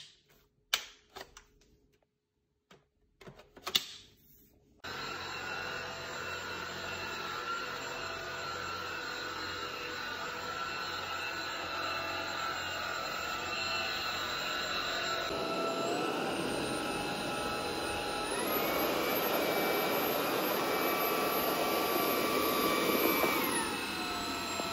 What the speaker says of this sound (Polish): Viomi A9 to jest bardzo dobry odkurzacz pionowy